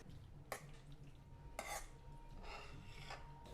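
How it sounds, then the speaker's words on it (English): A spoon scrapes and knocks against a vessel of squid pepper roast as it is mixed, with a few sharp clinks and soft scraping strokes in a quiet kitchen, no voices. "Give them all a good mix."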